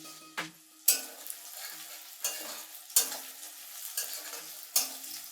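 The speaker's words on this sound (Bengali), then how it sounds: "আমার পেঁয়াজগুলো ভাজা হয়ে গেছে" Chopped onions sizzle in a pan tempered with chilli, with four or five distinct scraping stirs of a spatula at regular intervals over a soft continuous frying hiss.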